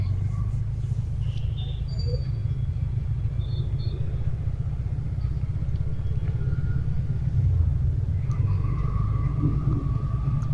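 A motorcycle cruises along a highway bypass with a continuous low engine rumble and wind roar close to the mic, steady for the whole stretch with faint higher tones from other traffic.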